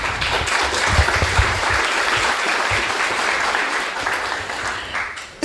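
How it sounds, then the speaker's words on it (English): An audience at a conference talk gives warm applause: a dense, steady burst of clapping that starts at full strength and slowly fades near the end. "Please give her a warm applause to start her talk."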